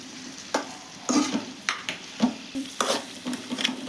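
Okra frying in a pan, a close sizzle broken by repeated scraping strokes as it is stirred at an uneven rhythm.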